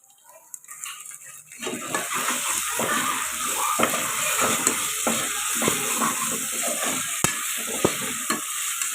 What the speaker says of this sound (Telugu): పచ్చివాసన పోయేదాకా ఫ్రై చేసుకోవాలి